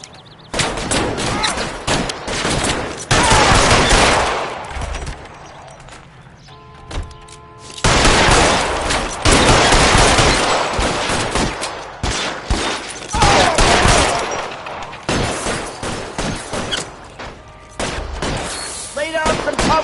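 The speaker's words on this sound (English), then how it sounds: "Lay down some covering fire." Heavy gunfire in the L.A. Noire video game: loud volleys of shots and booming bursts in several long waves, separated by brief quieter gaps, with voices mixed in.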